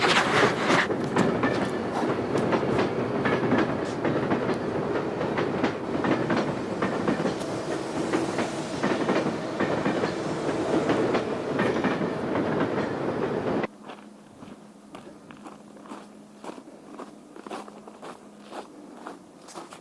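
A train clatters past nearby with rapid rhythmic wheel clicks, then cuts off abruptly, leaving quieter outdoor ambience with scattered taps.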